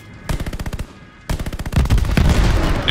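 Automatic gunfire from the video game Call of Duty Vanguard, set during the Battle of Midway, comes in two loud, rapid bursts, the second longer and denser, close and without talk.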